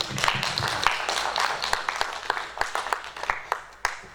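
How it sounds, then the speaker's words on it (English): An audience at an academic regional workshop applauds steadily, with many hands clapping in a dense, moderately loud patter that carries on throughout. "Another round of applause for Julie."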